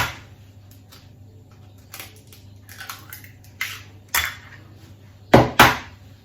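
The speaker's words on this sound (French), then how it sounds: "je casse 4 œufs entiers dans le pichet" Four whole eggs are cracked into a pouring jug of milk, heard as sharp close knocks and cracks against the rim, quiet at first and loudest near the end, with small wet drips between.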